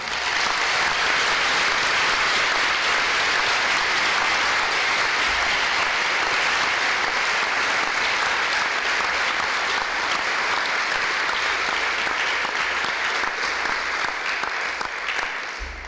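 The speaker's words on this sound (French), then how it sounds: "que vous fassiez un tonnerre d'applaudissements" Sustained, loud applause fills a large hall at the opening ceremony of a national mathematics teachers' conference, the dense clapping roaring on without a break for the whole stretch.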